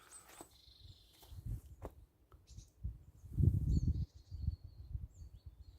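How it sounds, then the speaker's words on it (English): Scattered bird calls and chirps drift through a Finnish spring forest, faint and thin over low rumbling and rustling nearby. "Again, you can hear the bird song."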